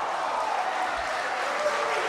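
Wrestling arena crowd at a CZW event roaring steadily, a continuous wash of cheering and clapping heard from within the audience.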